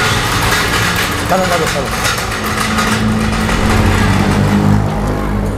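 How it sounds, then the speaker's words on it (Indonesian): A car having its wheel rims changed drives along noisily, with a steady engine drone and road rumble heard from inside the cabin while people talk over it. "mobil gua lagi diganti peleknya jadi agak berisik bawa ini"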